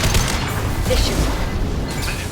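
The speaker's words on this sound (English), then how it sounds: "Watch out, flashbangs!" Flashbangs going off in the Mass Effect 2 video game, a dense, loud roar of blasts and crashing noise that fills the whole moment with no quiet gaps.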